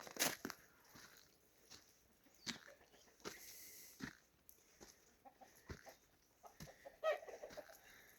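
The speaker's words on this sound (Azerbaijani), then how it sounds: "Tülkünün itin gözündən uzaq toyuqlar həyətdə otlayır." Chickens cluck and peck in a yard, scattered soft clucks and short sharp calls in an irregular pattern, fairly near, against a quiet background.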